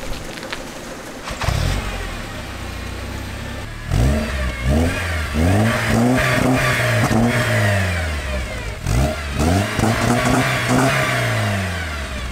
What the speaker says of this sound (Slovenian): ja ću turirat ovdje